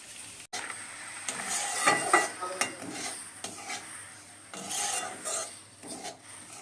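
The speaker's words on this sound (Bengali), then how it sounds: "তো সুজিটা আমি তো লাল লাল করে একটু ভাজবো একটু টাইম লাগবে" Dry semolina (suji) is roasted in a pan until reddish, with close, irregular scraping and rasping as a utensil stirs it against the metal, rising and falling in bursts.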